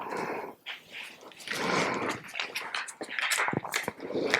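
A dog nearby during a yoga session makes soft whimpers, snuffles and low vocal noises in irregular bursts, fairly quiet and close in an indoor room.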